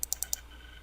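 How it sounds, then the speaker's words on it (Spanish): A computer mouse gives four crisp, evenly spaced clicks at close range, forming two quick double clicks in a quiet room. "Entonces vamos a dar doble clic en esta selección"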